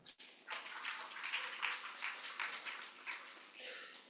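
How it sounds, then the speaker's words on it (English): Audience applause at a heart health talk, a soft, somewhat distant wash of many hands clapping steadily for a few seconds, fading slightly toward the end. "Give applause to Nutrilite."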